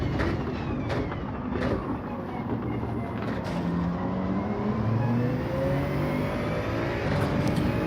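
Engine of a Toyota Supra Gr.3 race car in Gran Turismo 7 during a daily race at Sardegna Road Track, a continuous loud drone with shifting pitch as other cars run close by.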